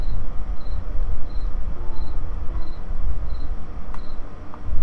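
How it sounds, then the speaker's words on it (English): Crickets chirp outside at night in a steady, evenly spaced pulsing trill, faint against a low rumbling background hum, with no talk. "If you guys hear crickets, by the way, that is because there are crickets outside"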